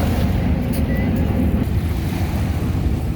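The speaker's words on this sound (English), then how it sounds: "That's one of the ferries." A deep, steady rumble of a passing ferry over the wash of waves on pebbles and buffeting wind in New York City, loud and continuous throughout.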